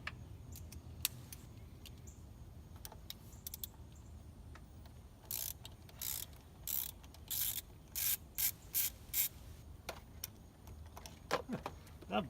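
A ratchet working bolts loose on the thermostat housing of a Mitsubishi 3000GT, its clicking starting sparse and quiet, then building into loud rapid bursts of ratcheting separated by short pauses, close up.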